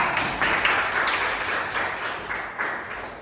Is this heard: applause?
yes